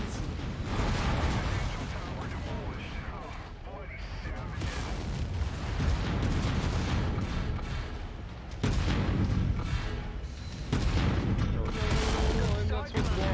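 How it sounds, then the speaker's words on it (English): Heavy missile explosions and weapon fire in MechWarrior 5, loud rolling booms and blasts in continuous waves with sudden sharp impacts, voices faintly under the din. "Incoming missile."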